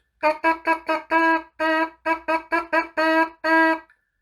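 Lips buzzing a brassy, pitched rhythm for cornet or trumpet practice: twelve clear notes, four short and quick then two held, repeated in the same pattern, loud and close with no talking.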